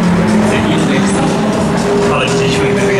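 Loud, sustained roar of a Ferrari driven by Felipe Massa during a Ferrari parade, accelerating hard out of a hairpin as the rear slides out, steady engine noise close by with crowd or commentary mixed in.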